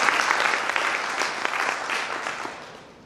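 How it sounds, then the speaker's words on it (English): A club audience gives a round of applause for a high school student at a presentation, a dense wash of many hands clapping at steady strength that thins and fades toward the end. "let's give him a round of applause."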